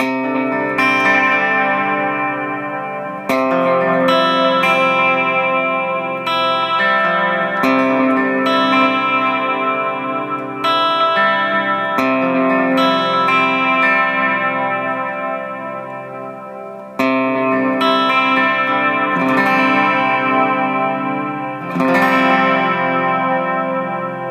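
Electric guitar played through a Strymon Brigader delay with its modulation backed off, ringing chords and arpeggios with echoing, chorus-like repeats and reverb tails, loud and close, restruck every few seconds.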